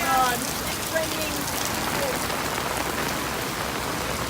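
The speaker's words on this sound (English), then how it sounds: "It's raining." Steady, dense rain pours down in Washington, DC, a continuous hiss of drops hitting surfaces with no letup across the clip.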